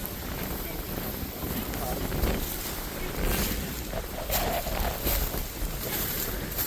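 Wind blows steadily across an outdoor spot by a creek near an old school site, a broad continuous rush with gusty swells that never drops away.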